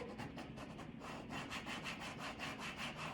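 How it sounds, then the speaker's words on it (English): A small scraper card rubs back and forth over a vinyl letter on an egg-shaped craft piece, giving quiet, rhythmic scratchy strokes close up with no talk. "you would just scrape it again with your little scraper card"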